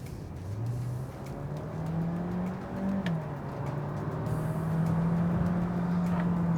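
A Peugeot 3008 PHEV hybrid, the 300bhp model, is driven hard with a steady rising engine drone and shifting pitch, heard from inside or close by at moderate level.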